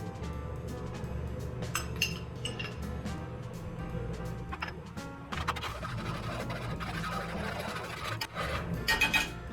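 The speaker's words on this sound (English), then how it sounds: "We're going to stir in what's left of our butter." Butter being stirred into a butter chicken sauce in a pan, with utensil scrapes and clinks against cookware running steadily through a moderate background of cooking noise, a few sharper knocks near the end.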